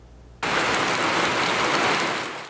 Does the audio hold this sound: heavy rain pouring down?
yes